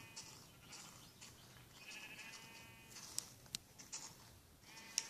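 Baby sheep bleating in a video game, a few faint bleats over a quiet background with occasional sharp clicks, no talk.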